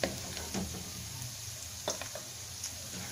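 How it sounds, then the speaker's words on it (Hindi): Onions fry in butter and oil in a pan for butter chicken, giving a faint steady sizzle broken by a few soft stirring scrapes and taps. "प्याज हमने फ्राई कर लिए हैं तकरीबन 4 से 5 मिनट के लिए।"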